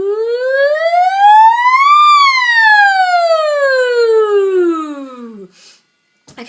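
A singer's voice imitates a siren, sliding smoothly up to a high peak and then gliding back down in one long continuous woo, loud and alone, ending with a faint breath.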